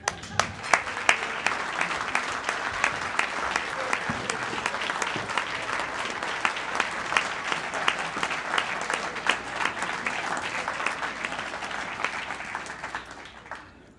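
Loud, sustained applause from a Rotary club audience fills the room, dense clapping from many hands with a few sharp claps up front, continuing evenly before tapering off at the end.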